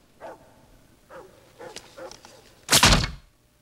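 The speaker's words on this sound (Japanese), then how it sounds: "犬が吠えてるよ。" A dog barks several times in a Japanese-dubbed Terminator 2 scene, a few short separate woofs followed by a louder, longer burst, with no voices over it.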